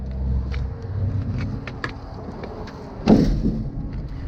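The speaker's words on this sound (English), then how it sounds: "Let's close up the hood and take a look behind the truck." The hood of a Kenworth T800 extended daycab truck closes, with a heavy thud near the end after some softer knocks and shuffling against a low outdoor rumble.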